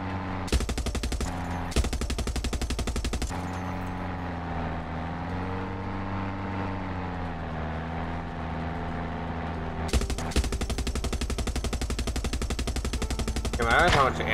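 Automatic machine-gun fire in Far Cry 6, loud sustained rapid bursts near the start and again from about ten seconds, separated by a stretch of steady droning engine-like tone in between.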